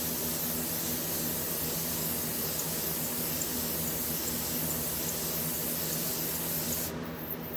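A paint spray gun, turned down to about a quarter turn for a light coat, lays paint onto a tumbler with a steady close hiss that runs almost without a break and cuts off abruptly near the end.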